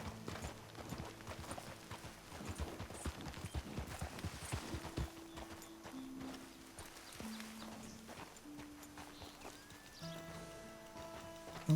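Horse hooves clip-clop at a walk in Red Dead Redemption 2, a steady run of close, crisp hoof hits over a bed of game music and ambience, with a brief snort or whinny possible.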